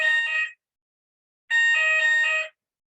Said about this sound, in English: we were warned when we arrived in here this morning that there was going to be a fire alarm at 10 o'clock, and that was that